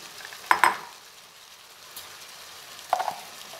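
Mixed vegetables (carrot, peas, fenugreek and cauliflower) frying in a pan, heard as a quiet, steady sizzle broken by a couple of sharp stirring clatters early on and another near the end, with no talking.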